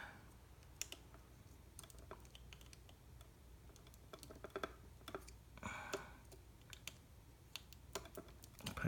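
Faint, sharp clicks and snaps from a punch-down tool pressing Cat 6 wire into a keystone jack, scattered irregularly over a low background hum, close and quiet.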